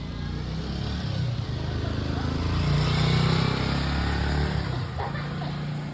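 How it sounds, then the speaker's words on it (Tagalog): A motorcycle passes by at a village fiesta, its engine rising to a moderate roar midway and fading again, heard over crowd noise and background chatter. "May motor, guys."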